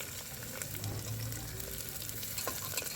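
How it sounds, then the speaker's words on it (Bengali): Onions frying in a pan until browned for a mutton lung curry, a steady close crackling sizzle with a few sharp stirring taps, quiet and without speech. "তারপরে আমি পেঁয়াজগুলোকে এর মধ্যে দিয়ে দেব লাল হওয়ার জন্য।"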